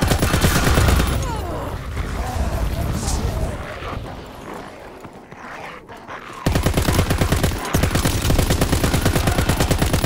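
Blyskawica light machine gun firing in Call of Duty: WWII Zombies, loud rapid automatic bursts with game effects layered in, easing off into a quieter stretch midway before a hard, rattling burst resumes to the end.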